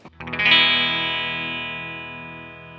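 An electric guitar chord is strummed near the bridge in one quick rake and left to ring with a bright, trebly, slightly effected tone. It decays slowly, with no voice.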